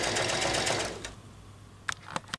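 A sewing machine stitches Ankara satin fabric for a no-elastic hair bonnet: a steady, close mechanical buzz runs for about a second, then stops, leaving a few soft clicks.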